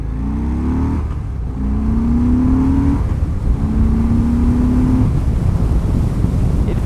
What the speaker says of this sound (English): let's feel some of this prodigious Harley torque